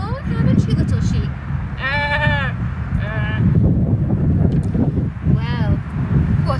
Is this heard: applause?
no